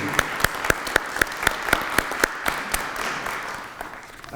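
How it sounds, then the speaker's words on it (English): A historical society anniversary audience gives a round of applause: many hands clapping together, with a few sharp, rhythmic claps standing out before it fades. "Can we have a round of applause for you?"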